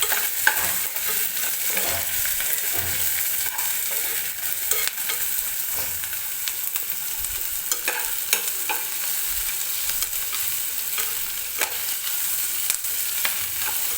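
Onion, green chili, garlic and ginger fry steadily in hot oil for a mutter paneer base, a continuous close sizzle with occasional spoon scrapes and stirring knocks, no voices.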